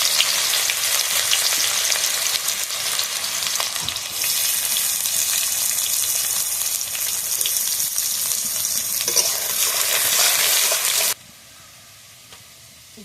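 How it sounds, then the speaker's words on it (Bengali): Chopped onion fries loudly in a wok of oil with bay leaf and whole garam masala, a bright constant hiss that cuts off abruptly near the end, leaving a quiet room. "এবার দিয়ে দেবো কেটে রাখা পেঁয়াজ।"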